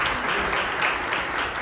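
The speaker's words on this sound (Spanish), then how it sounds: "Denle un aplauso al Señor por la vida de Oscar." Congregation clapping during a church communion service, a brief, dense and fairly loud wash of applause with no voices over it.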